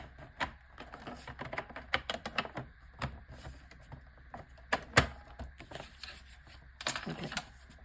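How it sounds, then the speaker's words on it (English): A hand-operated paper cutter trims a printed A4 page, giving a run of quiet, close crisp clicks and slicing scrapes in irregular bursts, with a few sharper snaps. "I'm just going to get my cutter and just cut it exactly where they are"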